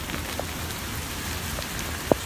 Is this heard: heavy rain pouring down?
yes